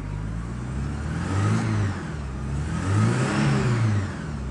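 Porsche 944 engine, an 1985.5 model, revved twice in short blips of throttle, rising and falling around a steady running note, close and fairly loud with no talking.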